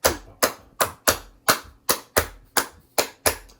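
Sharp, close hand claps ring out in an uneven Khaliji pattern, about ten crisp strikes with short and long gaps between them, played alone with no voice.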